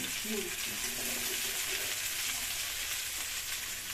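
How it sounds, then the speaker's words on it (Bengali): Potato curry masala with new potatoes, for a rich kosha aloo dum, sizzles steadily in a pan as it is stirred while frying, a close, continuous hiss with a faint voice murmuring early on. "একটু এখানে একটু নাড়িয়ে নেব"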